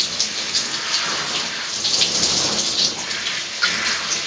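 A handheld shower head sprays water steadily onto hair during a shampoo and deep-conditioning session, a continuous close hiss with no pauses.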